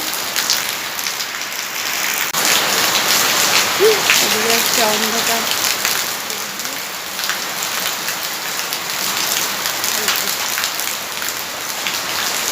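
Heavy rain pouring steadily outdoors, a dense continuous hiss of drops on surfaces throughout, with a voice speaking briefly underneath.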